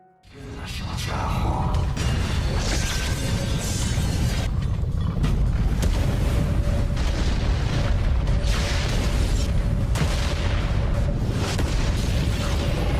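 A loud explosion effect swells into a sustained, rumbling roar with crackling debris that holds steady and fills the scene.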